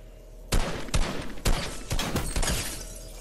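Gunfire in Fortnite, with several sharp, loud shots in a quick uneven volley, some of them rattling together like automatic fire, and no talk in between.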